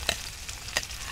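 Onion sizzles and fries in a pan at an outdoor cooking setup, a soft, steady crackle broken by a few brief louder spits.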